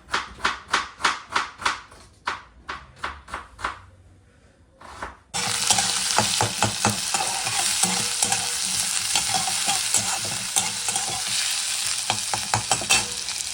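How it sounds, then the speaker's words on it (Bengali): Paratha frying in a pan at home: first a run of sharp rhythmic taps and clatters, a brief pause, then a loud continuous sizzle of oil with spatula scrapes and clinks running steadily to the end, no talking. "পরোটা ভাজা চলছে"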